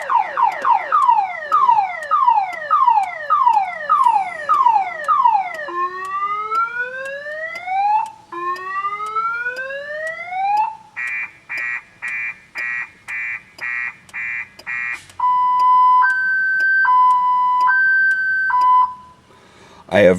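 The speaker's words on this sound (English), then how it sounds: "Seems like no matter what I do, the alarm goes off." A 2000 GM Impala's factory car alarm cycles through loud electronic siren patterns: rapid descending chirps, rising sweeps, a fast pulsing warble, then alternating two-tone beeps, all close and continuous with no talking.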